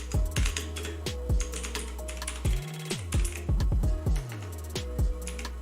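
Computer keyboard typing text in Cinema 4D, bursts of crisp, close keystrokes in quick clusters with short pauses between, over a low steady hum.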